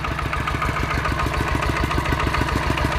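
A Kubota ET95 walking tractor's diesel engine, its fuel filter clogged, runs up close with a steady rapid chugging beat that holds an even pace without climbing.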